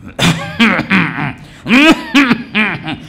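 Several harsh, close coughs and throat-clearing bursts come in quick succession, loud and rasping, each a short voiced hack separated by brief pauses.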